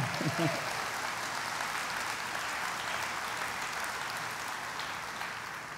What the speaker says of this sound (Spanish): Eso es para un mejor aplauso al Señor.